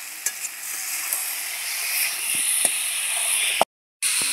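Besan (gram flour) is stirred in hot ghee in a pan, giving a steady close sizzle with soft scraping strokes and occasional clicks of the utensil against the pan, without talk.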